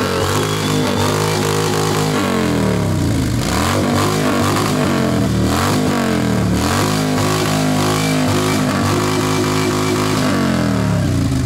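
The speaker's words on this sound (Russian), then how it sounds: "И слушаем шестой мотоцикл" Motorcycle engine at a motorcycle festival, revving hard and loud up close in repeated surges and drops over a rough idle, continuous throughout.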